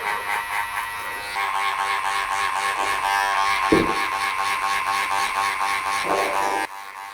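Electric hair clippers with a guard buzzing steadily through a short barbershop haircut, a continuous close-up whine with slight shifts as the blades move through hair.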